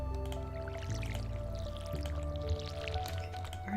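Watering crops in the Stardew Valley farming game: repeated soft splashing and dripping bursts from a watering can, each a short wet squish, over steady background game music with a looping melody.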